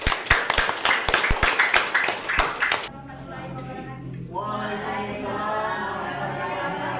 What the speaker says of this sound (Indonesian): Beri aplaus kalau tidak.